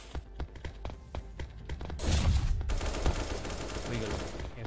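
A burst of rapid gunfire and a heavy explosion sound during a grenade attack on an enemy in the ev.io shooter game, sharp cracks followed by a loud, rumbling blast that lingers.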